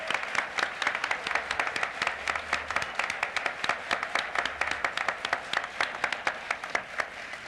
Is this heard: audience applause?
yes